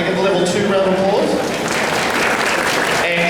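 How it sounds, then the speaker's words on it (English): An audience at a Karen Gillan convention panel in Wellington gives a sustained round of applause, dense and loud from start to finish, with voices mixed in over the clapping. "Can I get a level 2 round of applause?"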